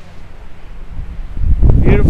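Gusty wind buffets the microphone, rising to a louder, rumbling roar in the second half.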